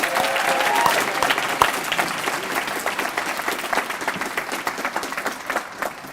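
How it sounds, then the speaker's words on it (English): Audience applause at a university student life leadership awards ceremony, a dense, fairly loud round of clapping from a seated crowd that holds steady for several seconds before easing slightly. "Let's give him another big round of applause."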